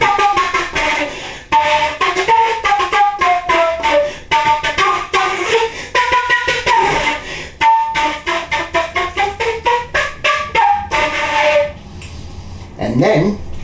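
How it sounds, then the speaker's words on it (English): A solo concert flute, a no-reed woodwind, plays quick melodic phrases with rising and falling runs and short detached notes. The playing is close and fairly loud, with brief pauses between phrases. "the concert flute,"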